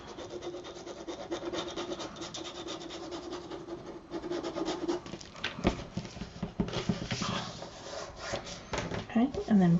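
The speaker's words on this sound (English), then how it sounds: "Okay, and then burnish again." Paper is burnished for a craft folio, a steady close rubbing and scraping that grows busier and more uneven toward the end, faint overall.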